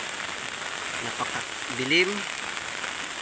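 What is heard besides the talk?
heavy rain with gusts of wind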